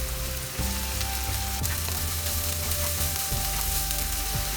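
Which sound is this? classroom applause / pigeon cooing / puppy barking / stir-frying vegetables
stir-frying vegetables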